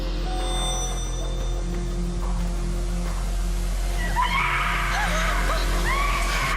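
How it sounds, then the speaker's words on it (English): Shrill, high-pitched screams of children break out in the wilderness near a cave path, several rising and falling wails loud over a steady low hum. "All of a sudden, you hear these kids. They're screaming for their life."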